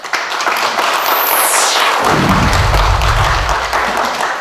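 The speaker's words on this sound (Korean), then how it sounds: "큰 박수로 맞아주시기 바랍니다." An audience at a unification forum in Ansan gives a welcoming round of applause for a speaker, a continuous wash of clapping with a high whistling tone sweeping downward midway and a low hum beneath.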